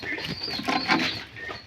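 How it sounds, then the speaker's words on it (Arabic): Pigeons shuffle and coo softly in a home coop alongside rabbits and turkeys, a short burst of close fluttering, scratching and low bird calls. "وده الحمام اللي احنا طالعينه"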